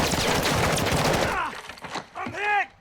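Rapid automatic gunfire in the video game Call of Duty Modern Warfare 2, a sustained loud burst lasting about a second and a half before breaking off, followed by scattered game sounds and a short voice.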